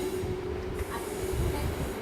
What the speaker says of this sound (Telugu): మధ్యలో ఈ ట్రైన్ సౌండ్ ఒకటి మాకు తలకాయ నొప్పి.